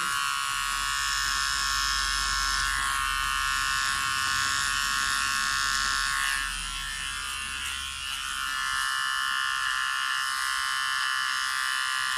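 Wahl Deluxe Home Pro electric hair clipper running while trimming the nape of a neck, a loud, close, continuous high buzz that dips slightly in pitch and load for a moment midway, then steadies again.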